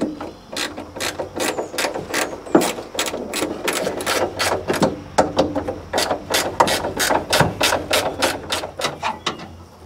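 Rapid ratchet clicks in quick bursts as a 12mm socket loosens the mounting bolts of a roof spoiler on a widebody Mitsubishi 3000GT VR4, close and steady with no talk.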